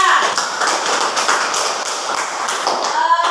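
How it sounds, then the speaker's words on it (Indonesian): A classroom of students claps for a student group after a water-filter project, a dense, steady burst of applause lasting about three seconds, close and loud. "Tepuk tangan dulu untuk kelompok 3."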